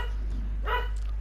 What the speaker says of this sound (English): I do apologise if you can hear my dog barking in the background